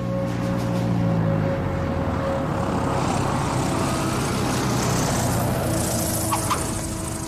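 An airplane approaches to land on runway 1 at Tucson, its engine a continuous broad drone with steady tonal hums, loud and sustained throughout with no speech.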